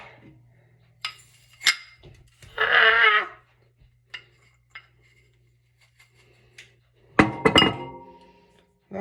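Bowls clinking and knocking together while a bigger mixing bowl is pulled out in a home kitchen during mac and cheese prep; a few sharp separate clinks, then a soft scrape, and a louder clattering burst near the end.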